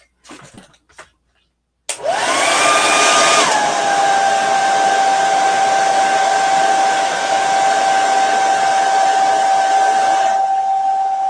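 A heat tool switches on with a rising whine and then blows steadily, loud and close, drying a chalk-paste craft project on a round wooden door sign, its tone holding level for several seconds without talk.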